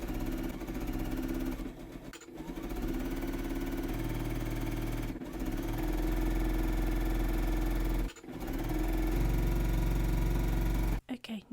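A sewing machine runs almost nonstop, chain piecing fabric triangles for a lattice patchwork block, its steady mechanical whir broken by short pauses between units and a brief stop near the end.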